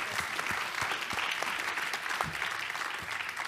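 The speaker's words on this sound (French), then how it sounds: "on va applaudir André et Mélanie va lui remettre son prix" Audience applause fills a room as an author is honoured with a prize at a literary event on seniors, a steady dense clapping with no voices throughout.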